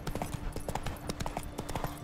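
Horse hooves clip-clop in a quick, steady rhythm as a rider travels in The Witcher 3, sounding close and continuous over a faint ambient game background.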